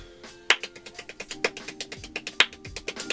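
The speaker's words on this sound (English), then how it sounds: "Well, just watch this expert clap." Very fast hand clapping by an expert clapper: a rapid, even train of crisp claps, close and distinct, with a few louder accents punctuating the steady rhythm.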